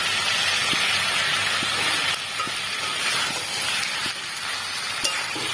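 Ground mustard paste frying with potatoes in a pan makes a loud, steady sizzling hiss close by, with a few light taps as the mixture is stirred.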